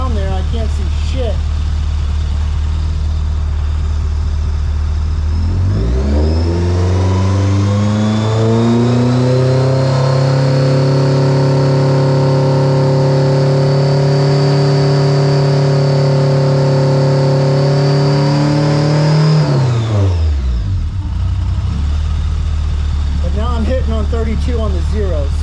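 A rebuilt 1984 Bertone X1/9 engine is revved up from idle, climbing smoothly to a high, sustained whine and holding there before dropping back to idle, loud and close, with speech in the background.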